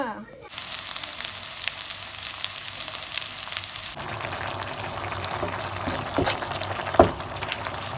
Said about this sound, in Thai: วันนี้ก็จะผัดกะเพราค่ะพี่น้อง